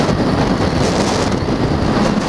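Headwind roaring over a Yamaha Fazer 150 motorcycle on the move, a loud steady rush of wind buffeting the microphone throughout, with no talk.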